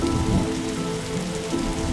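Steady rain patters on a surface in the video game The Darkside Detective, an even, continuous wash with no voices.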